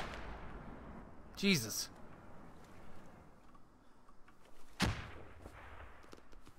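Mortar and gunfire in the military shooter game Squad, two sharp, loud blasts a few seconds apart over a low outdoor battlefield rumble, with a brief spoken exclamation.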